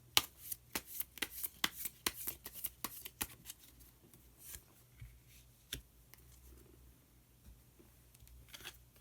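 Tarot cards being shuffled close up, with a rapid series of crisp slaps and riffles that thin out into sparser taps, quiet and alone with no talking.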